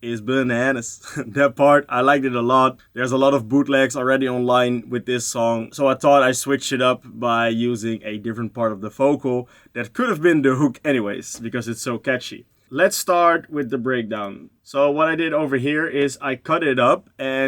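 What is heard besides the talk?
No everyday noise stands out behind the speech.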